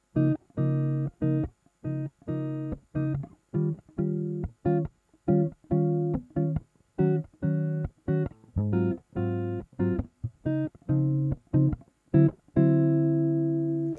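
Nylon-string guitar strums a short repeating bossa nova pattern of plucked chords with syncopated gaps, steady and close, played alone without voices.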